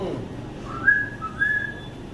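A clear whistled melody, a few rising and sustained notes in two short phrases, heard alone with no talking.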